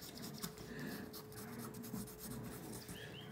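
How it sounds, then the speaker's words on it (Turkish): A pencil sketches a mermaid on paper, giving a steady, soft scratching and rubbing of graphite across the sheet, with continuous close strokes and faint background noise. "İnşallah çiziyor kalemimiz."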